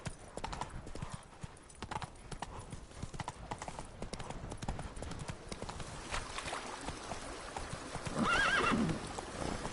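Horse hooves clip-clop steadily through a video game scene, with a whinny rising near the end as the pace picks up; the hoofbeats stay close and fairly loud throughout.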